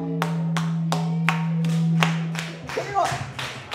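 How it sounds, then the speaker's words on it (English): An audience claps along in time at a music performance, with sharp, evenly spaced hand claps repeating at a steady beat over a held tone, and a voice sounding near the end. "I need y'all to clap like this"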